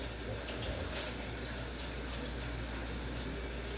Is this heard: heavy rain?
no